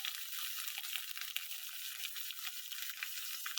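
Finely chopped ginger and garlic frying with green chillies in a pan, a bright, continuous close sizzle with small crackling pops and no talk.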